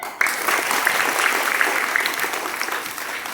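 An audience at a talk claps all at once, with a sudden start just after a brief pause, then keeps up a dense, even round of applause to the end.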